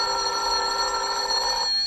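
A telephone bell rings loud and close in one sustained burst of bright metallic trilling, cut off abruptly near the end, with no voices over it.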